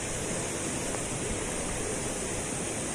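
Steady, loud broadband rush of the waterfall at Curug Cibulao in the Bogor highlands, water pouring over rocks in a constant roar that fills the whole clip with no voices.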